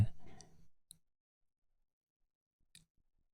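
Two short, sharp computer mouse clicks in Camtasia 2022 software, the second about two seconds after the first, each standing alone against silence after a brief stretch of soft background noise.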